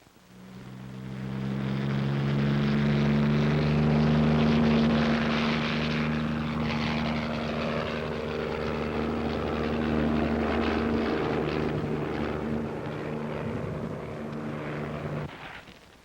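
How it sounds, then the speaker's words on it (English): A Saskatchewan air ambulance plane passes overhead with a loud, steady propeller drone. The drone rises quickly, holds strong for several seconds and then gradually fades as the plane moves away. "Plane is coming."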